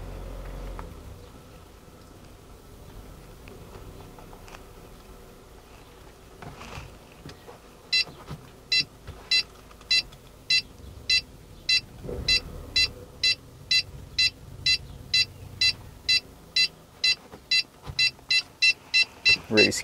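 A car parking sensor system beeps as the car creeps toward a truck, starting partway through as evenly spaced sharp bleeps over low engine rumble and faint talk, getting louder and faster toward the end.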